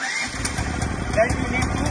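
A Bajaj petrol generator self-starts and runs with a steady, rough low engine rumble, close and loud, while someone talks over it.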